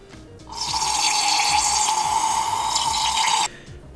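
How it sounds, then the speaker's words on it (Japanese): A fishing reel bearing is washed under a steady rush of water that starts abruptly, hisses loudly and evenly for about three seconds, then stops, with no talk. "このベアリングを洗ってやると"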